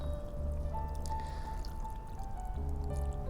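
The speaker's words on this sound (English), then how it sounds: "we need to add the drinking water to the fill line in here" Drinking water pours steadily into a Haidilao self-heating spicy hot pot container, a continuous close trickle with a low background hum.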